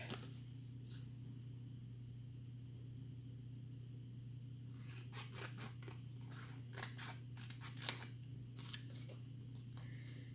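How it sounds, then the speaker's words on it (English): Scissors snip through a strip of sticker paper in a quiet room over a steady low hum, with a quick run of close, crisp cuts clustered toward the end. "I think I'm just gonna cut it off as a strip."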